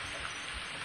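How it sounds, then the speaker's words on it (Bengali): Steady heavy rain falls during a muddy monsoon spell, a dense continuous hiss that fills the whole moment, with no voices. "এই দেখুন, বৃষ্টিটা তো আরও বাড়ছে"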